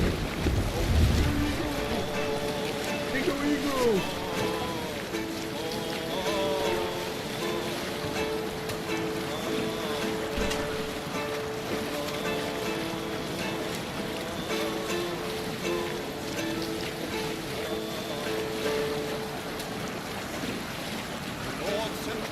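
Viking longship under sail at sea in Assassin's Creed Valhalla, with steady wind and rushing water and waves running the whole time, a low thump near the start and faint background music and game sounds layered in.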